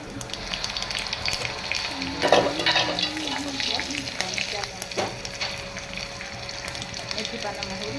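Whole spices frying in hot oil in a pan, giving a steady close sizzle and crackle with a sharp burst of spattering as they hit the oil. A faint background hum runs underneath.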